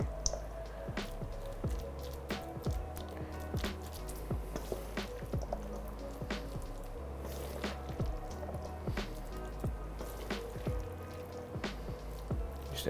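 Pizza rustica filling being packed into a pan by hand, giving soft, wet squishing and dripping sounds in a steady stream of small, close, quiet squelches.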